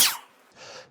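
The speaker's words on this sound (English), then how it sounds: "Our daily sneeze attack." A single sharp, close sneeze bursts out during a sneeze attack and cuts off quickly. A soft, breathy exhale trails after it.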